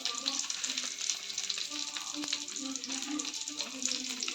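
An omelette fries in a pan with a steady, close sizzle and crackle that carries on without a break. Faint scraping from stirring comes through now and then, and no one speaks.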